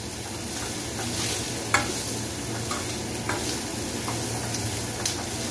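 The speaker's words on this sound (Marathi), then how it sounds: "शिजवायचे नाही, आपल्याला फक्त परतायचे आहे, याचा कच्चेपणा घालवायचा आहे।" Sliced capsicum, onion and green chili being tossed and stirred in a hot pan, a steady close sizzle with occasional scrapes of the spatula, no voices.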